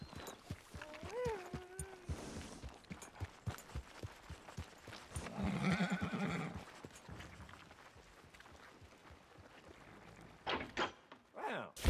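A horse in the Red Dead Redemption 2 video game at a stable: a rising neigh near the start, then steady clip-clop of hooves and thuds, with a snort or whinny midway and a few louder knocks toward the end, all at moderate volume.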